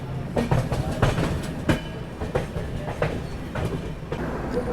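Vikramshila Superfast Express running on rails, rhythmic clickety-clack of wheels over joints with a continuous rumbling carriage drone heard from inside the train.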